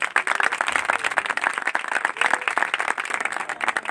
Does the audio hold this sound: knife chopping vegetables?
no